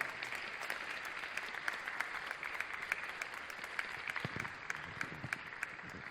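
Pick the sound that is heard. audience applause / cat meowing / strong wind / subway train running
audience applause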